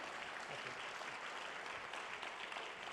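Faint, distant applause from a crowd at a benefit event, a continuous soft wash of clapping with no talk on top.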